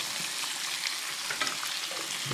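Garlic frying in hot oil while being stirred, a steady close sizzle with light scraping and stirring clicks.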